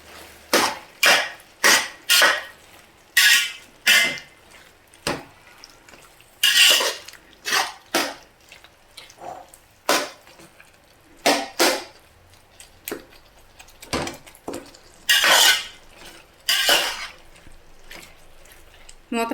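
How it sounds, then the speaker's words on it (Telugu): Tomato pieces stirred in a pan for a pickle, with a spoon scraping and knocking against the metal in a series of loud, close strokes, spaced unevenly with short quiet gaps between. "ఈ టమాటా ముక్కల్ని మరొకసారి కలుపుకుందామండి"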